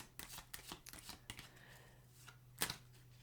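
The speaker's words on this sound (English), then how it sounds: "One more little shuffle for you" A deck of tarot cards being shuffled, with quick papery riffles and soft flicks in a steady rhythm, ending in a sharp snap near the end.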